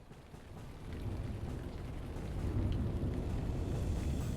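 Pouring rain in the video game Lord of the Rings Online roars as a dense, rumbling wash of noise that swells gradually louder, with no voices.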